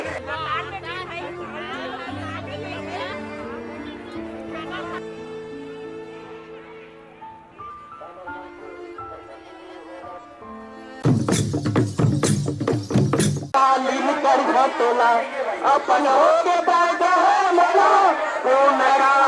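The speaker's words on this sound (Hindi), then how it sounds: "उनके पीछे यहाँ हजारों की संख्या में लोग नारे लगा रहे हैं" Thousands of striking health workers at a sit-in protest chant slogans near a stage, loud rhythmic massed voices that rise abruptly and carry on strongly, with a speaker talking nearby and a crowd murmuring beforehand.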